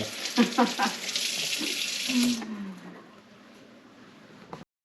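Tap water runs steadily into a sink during handwashing in a home kitchen before baking cookies, a close gush that stops partway through and leaves near silence.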